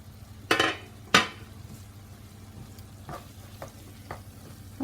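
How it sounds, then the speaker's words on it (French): Ground beef sauce simmering gently on low heat, with a soft steady sizzle, two sharp clatters of a utensil against the pan near the start and a few lighter taps later, no voices. "je vais laisser cette sauce bien mijoter en attendant que mes aubergines cuisent"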